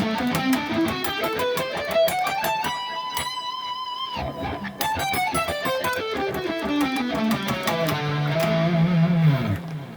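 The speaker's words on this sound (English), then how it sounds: "So playing a scale and economy picking would sound like this." Electric guitar scale picked with economy picking, a steady run of clean single notes climbing up and then descending, sustained tones with effects, loud and alone with no talking.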